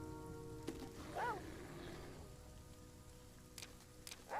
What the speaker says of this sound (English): It is raining though